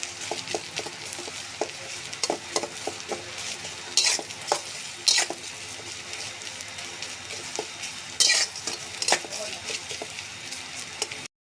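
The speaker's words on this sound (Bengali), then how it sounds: "আমি পেস্টটা একটু নরম করে ভেজে নিই" Spice paste with chopped green chilies frying and being stirred in a pan for an egg and sponge gourd stir-fry, a steady sizzle under repeated scraping stirs and a few sharper utensil clacks, close and moderately loud.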